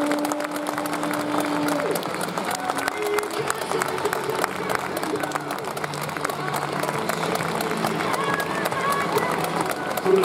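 Stadium crowd applause for Sagan Tosu players at the club's home-season-finale ceremony, a broad steady roar of clapping with scattered sharp claps and voices in the background.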